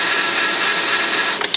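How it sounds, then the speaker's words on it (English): Epson XP-600 inkjet printer running a print head cleaning cycle after new cartridges, a steady close whirring mechanical drone with a few small clicks at the end. "it's cleaning the print head, because you just put new cartridges in"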